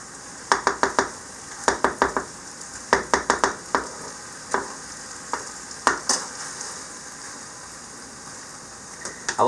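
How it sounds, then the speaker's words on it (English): Garlic sizzles in a large meal-prep pan while being scraped and stirred off the bottom, a steady frying hiss broken by repeated clusters of sharp utensil scrapes and clacks against the pan, close and clear with no talking. "Trying to turn it over a little bit to get that most of that garlic and stuff off of the very, very bottom."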